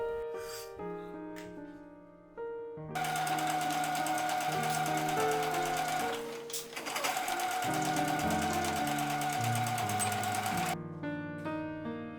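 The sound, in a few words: sewing machine stitching denim tote bag seams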